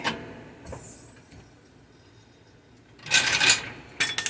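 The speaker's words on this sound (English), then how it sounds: "So now I can release the floor jack" A floor jack being released under a 2011 Mercedes GLK 4Matic X204 during a lower control arm job: two short hissing, scraping bursts, close and fairly loud, separated by a quiet pause.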